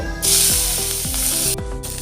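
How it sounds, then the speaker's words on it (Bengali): Loud, steady sizzling of prawns frying in hot oil in a wok, with a few low metallic scrapes and clanks running underneath. "কড়াইতে তেল দিয়ে চিংড়ি মাছটাকে প্রথমে ভেজে নিতে হবে"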